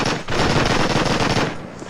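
Continuous loud automatic gunfire in Call of Duty, a dense sustained burst of rapid shots running almost two seconds with a brief dip near the start.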